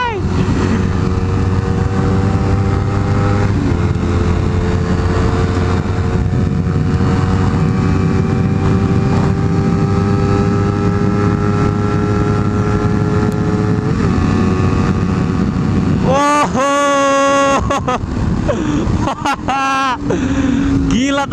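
Honda CBR 250 RR motorcycle engine on a test ride, a loud steady high-revving drone with wind rush, then sharp rising and falling rev sweeps near the end.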